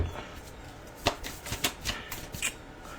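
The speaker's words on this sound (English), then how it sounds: "I'm just gonna shuffle and keep talking and shuffling" A deck of playing cards being shuffled in bursts, several quick riffling rustles and soft snaps spaced unevenly, close and fairly quiet.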